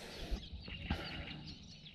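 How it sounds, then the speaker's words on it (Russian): Birds call in foggy countryside at a fishing spot, faint scattered chirps over a low murmur of outdoor ambience with a few soft thumps. "Птички поют."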